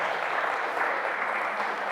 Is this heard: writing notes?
no